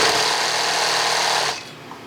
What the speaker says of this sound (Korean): 특히 이 잡화점에선 재봉틀 돌아가는 소리가 끊이지 않는다.